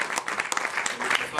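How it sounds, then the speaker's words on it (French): An audience applauds a volunteer at a comedy show, with scattered clapping that is fairly faint and brief and sits under a speaking voice. "donc on applaudit Stéphane, s'il vous plaît, qui a été hyper courageux"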